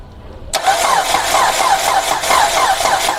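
A Dodge Avenger engine is cranked by its starter, breaking abruptly out of near silence into a loud, close, rhythmic whirring that pulses steadily for about three seconds without catching.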